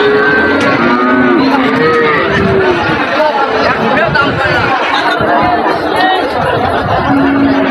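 Cattle moo repeatedly at a busy livestock market selling Sahiwal, local and crossbred bulls. The drawn-out lows rise over constant crowd chatter and nearby talking, with occasional chuckles.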